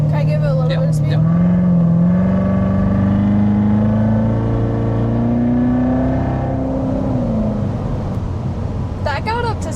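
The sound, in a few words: Corvette accelerating at half throttle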